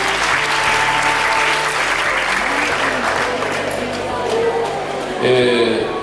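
A large congregation at a Catholic retreat applauds the pastoral team, a dense, loud wash of clapping that holds steady throughout, with a few voices and faint tones showing through near the end.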